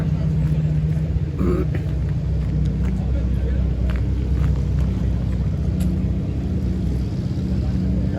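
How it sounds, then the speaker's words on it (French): Supercar engines warm up at a Paris gentlemen drivers' meet, a steady low rumble of idling motors close by with occasional revs. "Là, ils font chauffer les moteurs, ce qui est normal."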